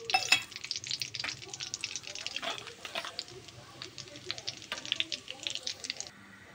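Cumin seeds and two bay leaves crackle and sizzle in hot oil left over from frying mushrooms, a steady close frying hiss with sharp pops and a few stirring scrapes, no talking.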